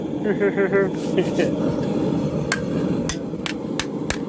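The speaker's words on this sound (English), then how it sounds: "I'm gonna start hammering out here" Hammer blows strike heated thin metal from a broken shovel while it is shaped into a garden trowel. Several sharp, ringing impacts come at an uneven pace over steady background noise, and a voice is heard briefly at the start.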